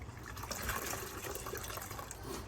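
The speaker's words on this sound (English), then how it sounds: "Pre-wetting the sphagnum moss." Water is poured over sphagnum moss for a gecko enclosure, making a soft, close splashing trickle that runs steadily for a couple of seconds with no voices.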